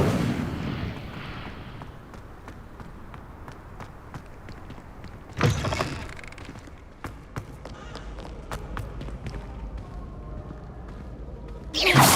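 In Hogwarts Legacy, a cast Incendio fire spell sends out a whooshing burst of flame midway, another burst follows at the end, and faint footsteps and small impacts sound in between.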